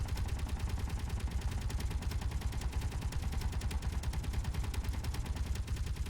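Gatling turret in the game Space Engineers firing a sustained, rapid stream of shots, dense and continuous at steady volume throughout with no pauses.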